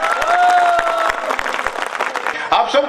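A crowd at a religious talk honouring the cow mother applauds with cheering. The clapping is fairly close and mixed with a sustained tonal voice or sound, and it swells again briefly near the end.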